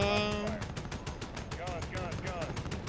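Rapid bursts of gunfire rattle in a steady stream during a Modern Warfare air support run, with radio voices talking over the shooting.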